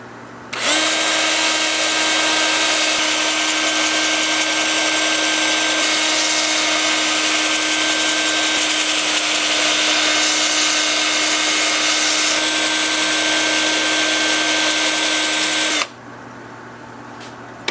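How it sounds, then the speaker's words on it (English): A walnut hollow form is sanded on a spinning wood lathe, giving a loud, steady whirring whine with a constant hum that runs unbroken for about fifteen seconds, then cuts off abruptly. "I'm going to sand forward first."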